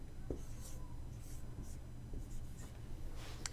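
Pen strokes scratch out a chemical formula on paper or a board in a short, quiet run of scattered taps and scrapes, close and faint over a low background hum, with no talking.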